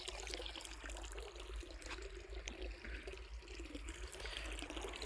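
Water gushes steadily from a tap while wheat fields are irrigated, a continuous broad rushing wash with a low rumble beneath it, close and unbroken throughout, with no talking.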